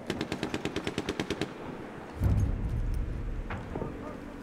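Rapid burst of machine gun fire in the World War I shooter Battlefield 1, about a dozen sharp evenly spaced shots over a second and a half, followed by a heavy low explosion-like rumble and lingering battle noise.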